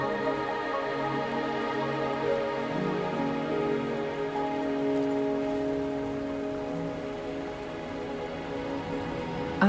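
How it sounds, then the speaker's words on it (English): Steady rain falls in the video game Wuthering Waves, a continuous even patter on surfaces with a layered musical drone beneath, no speech. "Are you trapped here by the rain?"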